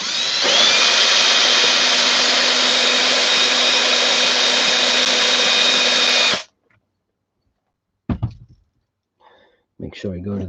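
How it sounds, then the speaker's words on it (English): A power drill bores a small pilot hole for wheel-balancing work on a Losi Lazernut RC car, a loud steady whine running about six seconds before cutting off, followed by brief talk. "I'll do a little pilot hole"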